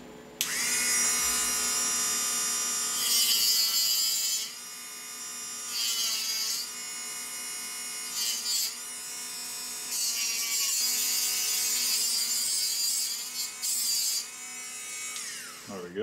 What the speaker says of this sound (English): And I'm using one of the smaller cutoff discs to do the deburring.